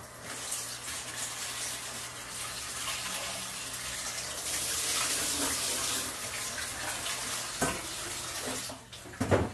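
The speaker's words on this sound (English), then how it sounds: "now I'm gonna pop this here and rinse it in cold water" Potatoes are rinsed under a running cold kitchen tap, with a steady gush of water splashing into the sink, close by and loud, ending in a few clunks.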